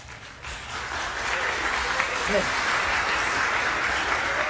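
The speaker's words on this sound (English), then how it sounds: "so if you could hold your applause" Steady, dense applause from a studio audience at a televised Louisiana governor debate between Edwards, Rispone and Abraham, rising after a quieter first half-second and holding loud and even to the end.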